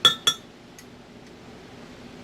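A teaspoon clinking against a glass container while scooping Hershey's caramel sauce, two bright close taps in quick succession followed by fainter ticks and quiet room tone.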